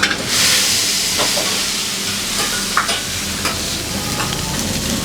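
Goat head meat fries on a street food stall pan, a steady loud sizzle and hiss with occasional scraping clinks of a utensil, continuous and close throughout.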